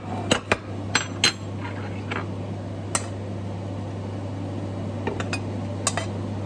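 Scattered clinks and clatters of plates and cutlery being handled nearby, sharp and irregular, over a steady low appliance hum.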